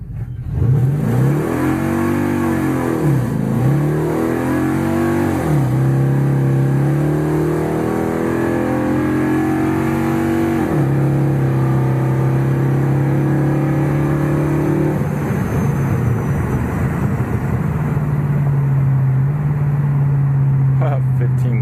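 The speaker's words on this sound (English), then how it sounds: "I'm gonna stop right here and do a quarter mile." A supercharged 7.3L Godzilla-swapped Crown Vic makes a quarter-mile run, its engine roaring loudly through repeated rising revs and gear shifts, then holding a sustained high-load drone, heard close from inside the car.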